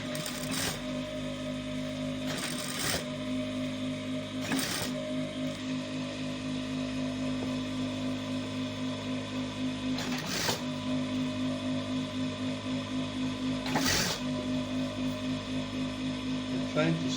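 A sewing machine stitches the collar of a student school uniform, running with a steady mechanical whir and a fast rhythmic chatter throughout, broken by a few sharp clicks and knocks.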